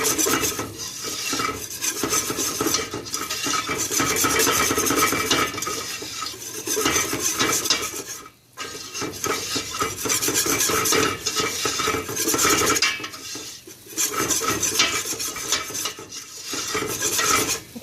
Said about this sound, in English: we're going to use the whisk and mix it really well until it becomes really creamy